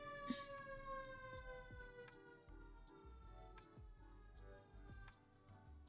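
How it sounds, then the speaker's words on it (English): Emergency siren wailing as it passes by outside an open window, a steady rising-and-falling tone heard through the room with faint background clatter, no talking. "I left my windows open for airflow today, and of course, that is when a siren goes by"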